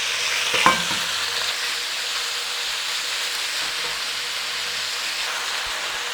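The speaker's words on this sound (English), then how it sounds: "Beef in and a quick sear" Beef with chili oil searing in a hot pan, a steady broadband sizzle throughout with a brief louder crackle and scrape near the start, close and fairly loud with no voices.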